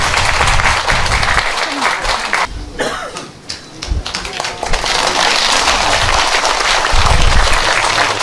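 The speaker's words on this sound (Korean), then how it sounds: "교수님을 앞으로 모시겠습니다. 큰 박수로 환영해 주시기 바랍니다." An audience applauds loudly to welcome a professor at a Buddhist graduate school alumni dharma gathering, with a brief lull and a cough or throat clearing before the clapping swells again.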